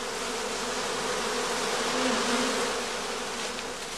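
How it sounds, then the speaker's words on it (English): A honeybee swarm gathering into a cluster around its queens, a dense, steady buzzing hum from many bees close by, swelling slightly toward the middle and continuing unbroken throughout. "They collect to form a swarm cluster of increasing size."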